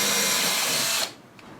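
A power drill runs steadily, backing a screw out of a wall anchor in drywall, a loud continuous whir for about a second before cutting off abruptly, leaving quiet room tone.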